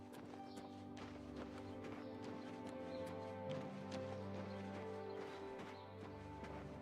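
Horse hooves clip-clopping in a steady rhythmic gait in the video game The Elder Scrolls IV: Oblivion Remastered, moderately loud over game music and ambience.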